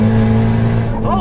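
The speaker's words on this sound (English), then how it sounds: "front wheel burnout there" A loud, steady drone with strong harmonics from a 500 hp turbocharged 2014 Honda Civic running high boost during a front-wheel burnout, the pitch wavering slightly near the end.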